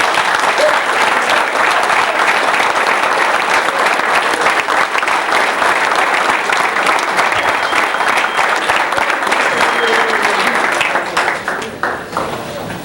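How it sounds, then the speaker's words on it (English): A banquet audience at a 1991 Dunmore track banquet gives a long, sustained round of applause, dense and even throughout, then thins out near the end. "Let's give him a special round of applause."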